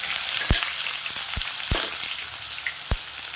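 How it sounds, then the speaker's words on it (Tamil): Onions frying in a pan, a steady sizzle filling the clip, a dense crackling hiss with a few sharp pops scattered through it, close and fairly loud. "நல்லா வதங்கி வரட்டும்"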